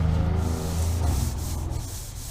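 Scotch-Brite pad scuffing a metal body panel on a 1965 Chevrolet C10 during paint prep, a close, continuous abrasive rubbing that fades slightly toward the end.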